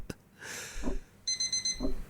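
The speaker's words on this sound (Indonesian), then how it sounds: "Alarm" An alarm clock rings in a rapid series of about six evenly spaced electronic beeps, fairly loud and close, following a few scattered soft rustles and thumps.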